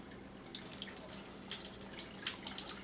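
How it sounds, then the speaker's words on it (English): Hot water draining out of the pipes of a leaky faucet under repair, a faint steady trickle with small irregular splashes and drips, heard close and alone. "Some of this water is the hot water that's coming out."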